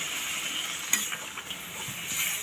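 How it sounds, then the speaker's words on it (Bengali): Water is added to a pan of sautéed vegetables for a winter fish curry, giving a faint hiss and sizzle with a single sharp clink of a utensil against the pan. "এবারে আমি পরিমাণ মতন জল দিয়ে দিচ্ছি।"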